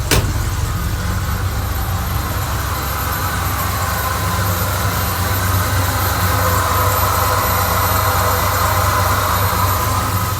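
A Ford F150's engine idles steadily and close up, a continuous low rumble with a faint rise and fall in revs as it purges, and no voices over it.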